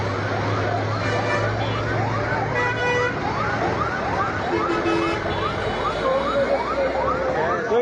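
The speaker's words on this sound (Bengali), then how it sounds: "ইতিমধ্যে ফায়ার সার্ভিসও গাড়ি এসে পড়েছে এখানে" A fire service vehicle's siren wails repeatedly in rising and falling sweeps as it arrives at a spreading fire, loud and continuous over engine rumble and background voices.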